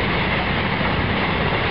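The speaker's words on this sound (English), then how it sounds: "Say hello to the choo-choo train." A train passes close by a canal towpath on the Shropshire Union Canal, a loud, steady, dense rumble with no talk over it.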